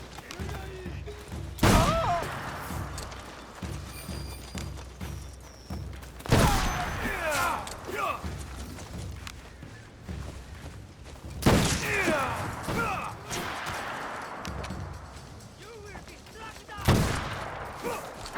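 Gunfire in the video game Assassin's Creed Shadows, with four loud sharp shots spread several seconds apart over a bed of quieter game ambience and clatter.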